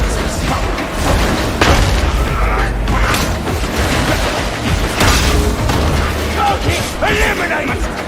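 Grenade blasts and heavy combat in a Warhammer video game, several loud booming bursts spaced through a dense, continuous din of mechanical battle noise.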